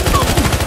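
A shooter video game produces a rapid automatic burst of gunfire: quick, close, repeated shots lasting well under a second, with faint voices underneath.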